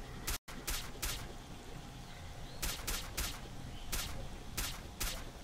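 Gunfire in the video game S.T.A.L.K.E.R.: Call of Pripyat: about nine sharp shots crack out in irregular bursts, some in quick pairs and triples, fairly loud over a steady ambient background.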